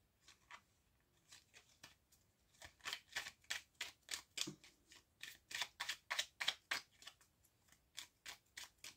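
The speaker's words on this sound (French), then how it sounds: "on va bien passer les cartes" Tarot cards being shuffled for a reading, a quick series of crisp papery riffles and snaps in bursts, close and fairly loud, with no talking.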